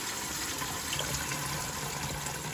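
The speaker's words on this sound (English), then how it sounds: "I'm going to rinse out the bottom real quick and then fill it up" Tap water runs steadily into a container as it is rinsed and filled at a homestead sink, a continuous loud gushing rush with no pauses.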